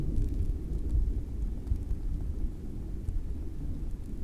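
Distant thunder gives a continuous low rumble throughout, fairly loud and steady with no sharp crack.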